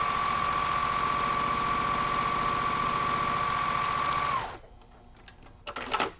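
A sewing machine stitches a quilt block at a steady high speed, a loud continuous mechanical whir close up for about four seconds, then it stops, leaving faint handling clicks and rustling.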